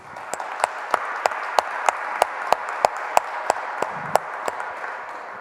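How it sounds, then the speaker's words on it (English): A single pair of hands clapping at a slow, even pace, about a dozen sharp claps ringing in a hall, greeting a speaker after her introduction at a talk event. "Please, round of applause for Melissa."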